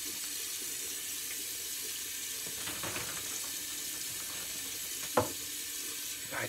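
Water runs steadily from a tap to rinse off an alum block after shaving, a soft continuous splashing stream with a few brief knocks and clatters at the sink.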